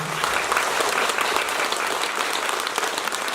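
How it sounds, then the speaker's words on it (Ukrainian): A festival crowd at the Petrivska Malanka celebration breaks into loud, sustained applause, dense clapping from many hands close by that fills the whole stretch. "Через те я прошу вас оплесками."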